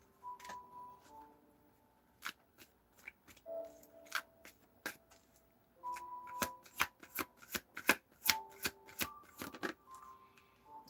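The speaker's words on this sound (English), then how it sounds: "Shuffle." Tarot cards are shuffled by hand in quick bursts of crisp riffling and slapping, near and fairly quiet, with short pauses between rounds.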